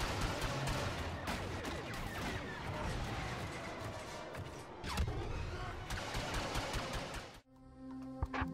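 A video game firefight on a laptop with an RTX 2080 fills the scene with rapid bursts of gunfire, heavy thumps and crashing explosions, dense and loud, then breaks off abruptly near the end; a voice speaks over parts of it.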